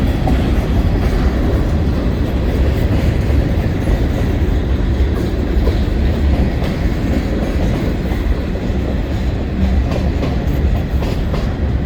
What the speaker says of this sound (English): that train running through Green Bay like that